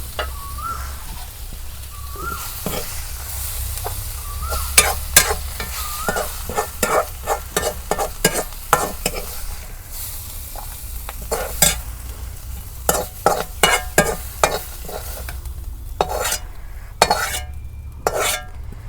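Leafy greens sizzle in a hot pan on a clay stove while a spatula stirs them, giving repeated sharp scrapes and clanks against the metal.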